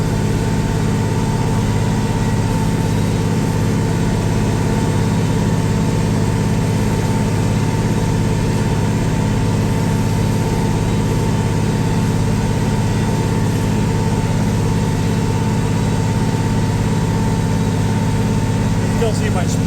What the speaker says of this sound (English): Hopefully it's not too noisy with the tractor cab. The old Henniker 1300.